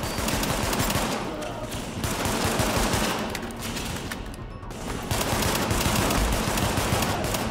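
Sustained pistol fire in the shooter Tom Clancy's The Division, with rapid repeated shots in dense bursts that ease briefly twice before picking up again, loud and close.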